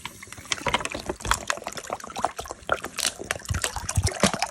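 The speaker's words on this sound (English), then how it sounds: "Now we're going to pour water. So get the water and pour it in here." Water is poured into a pot for ginger tea, splashing and gurgling loudly and unevenly up close, with irregular bursts of trickling throughout.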